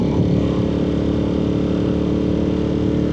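A Ducati Monster 1200 S motorcycle engine drones steadily and loudly while riding, giving a continuous low rumble with even throttle and no talk over it.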